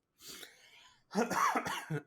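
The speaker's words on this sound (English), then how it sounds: "Sorry, I had a cough." A soft breathy throat sound followed by a louder, rough cough in a few quick bursts, close to the listener.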